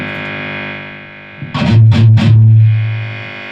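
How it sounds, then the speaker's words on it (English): A Hughes & Kettner Spirit guitar amplifier at maximum gain gives off a loud, steady hum and buzz, swelling into a burst of distorted noise before settling back to a droning hum. "Oh, there's already so much hum."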